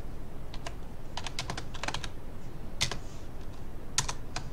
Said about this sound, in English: And then you just type in your text.